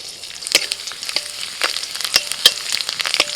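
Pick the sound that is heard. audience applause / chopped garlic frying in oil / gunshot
chopped garlic frying in oil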